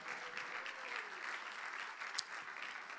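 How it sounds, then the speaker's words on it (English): Church congregation applauding to give God a round of applause, a steady wash of many hands clapping at moderate distance, with faint voices and a brief exclamation partway through. "Come on, somebody give God a round of applause"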